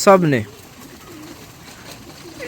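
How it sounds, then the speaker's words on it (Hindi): Pigeons in a loft at night, lights just switched on: a single close coo or throaty call opens, then a low restless murmur of birds continues faintly. "लाइटें ऑन की तो कबूतरों ने यहाँ पे मस्ती करना शुरू कर दी"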